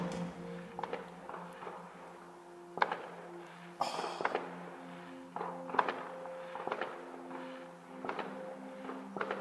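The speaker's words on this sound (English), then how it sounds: "it's fireworks around my area" Faint, distant pops and thuds of a fireworks display heard from a window, going off at irregular intervals over a quiet background hum.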